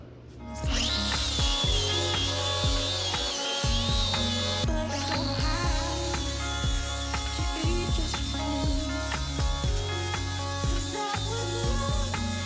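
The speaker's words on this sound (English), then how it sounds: "Now we need to go ahead and grind up the surface so we can get a nice clean weld." A grinder works the metal tube fitted into a 1966 Ford Mustang during a Coyote engine swap, a loud, close, continuous whine with harsh buzzing overtones, a brief pause near the midpoint, then it resumes and runs steadily.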